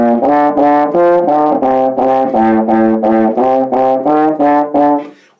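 A baritone horn plays the tune Skip to My Lou in a string of evenly spaced, same-length notes with no attention to rhythm, about a dozen loud, close, mellow brass tones, each separated by a short break.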